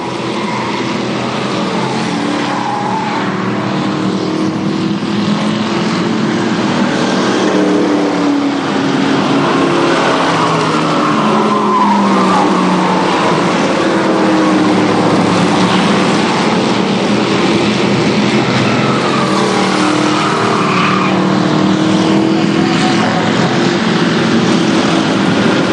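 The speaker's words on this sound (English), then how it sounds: "Bruce Holmes and George Lindsay battling side by side, lap after lap, tires squealing as they come through turns 1 and 2" Race cars lap an oval at Columbus Motor Speedway during the 1998 SuperStar Shootout, with loud, continuous engine roar and changing pitch as the cars run side by side through the turns.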